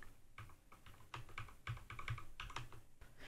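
Number keys on a computer keyboard are tapped in a quick, steady run of close clicks during work on a dual-color 3D print design, with faint background hiss and no voices.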